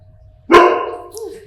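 A dog gives one loud, sharp bark close by, and the sound trails off into a short ringing tail against an otherwise quiet background.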